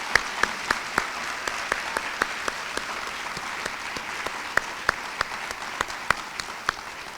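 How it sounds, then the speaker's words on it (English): An audience claps steadily for the Upperman African American Cultural Center staff at UNCW's 2019 Martin Luther King Jr. celebration, a dense hall applause of many hands with sharp individual claps popping out. "I would like for you to give them a round of applause right now"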